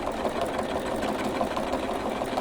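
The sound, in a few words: sewing machine sewing a quarter-inch seam on a pillow cover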